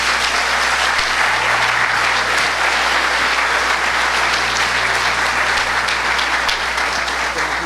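Sustained congregation applause fills a church service welcoming a pastor, dense and steady throughout without pause, loud and close with a low hum underneath.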